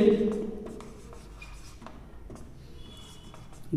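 Chalk or marker scratching across a board while working a geometry problem on a cone's volume, in short irregular strokes, close and fairly quiet, with a voice speaking over it at the start.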